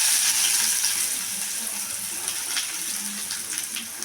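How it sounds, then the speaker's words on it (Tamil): Chopped onions tumble into hot oil in a kadai, giving a steady, close, fairly quiet sizzle with faint crackles and small clinks, no voices. "இப்போ வெங்காயம் போட்டுக்கலாம்."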